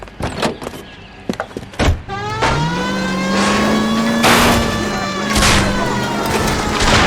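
Car smashing through backyard fences and obstacles in the L.A. Noire video game, with sharp crashing hits early on, then a loud sustained engine whine rising in pitch and holding, punctuated by further impacts.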